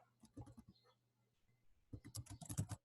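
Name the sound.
typing text on a computer keyboard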